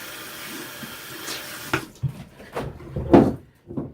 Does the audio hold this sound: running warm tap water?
yes